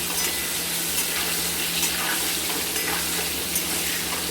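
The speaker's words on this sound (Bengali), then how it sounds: "দিয়ে এবার এটাকে আমরা লাল লাল করে ভেজে নেব।" Potatoes coated in turmeric frying in oil for a potato mutton curry, a dense continuous close sizzle with a low steady hum underneath and no speech.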